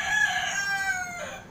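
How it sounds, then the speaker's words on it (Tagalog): Roosters crow near a cockfighting venue, a drawn-out cock-a-doodle-doo ringing clearly over a low background hum, with another crow fading in at the end. "At ang daming manok na tumitilaok."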